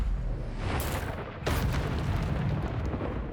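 Confringo fire spell in Hogwarts Legacy, two loud booming explosive bursts about half a second apart, the second heavier and followed by a rumbling tail, with no talking.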